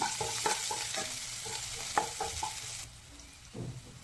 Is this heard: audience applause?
no